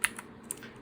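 Keys clack on an EDJO mechanical gaming keyboard, a few sharp, close keystrokes in a quick uneven sequence over a quiet background.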